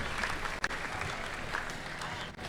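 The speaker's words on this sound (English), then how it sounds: "please give them a big round of applause." An audience at a senior wool handling competition final applauds a wool handler, steady dense clapping heard throughout with a brief dip midway.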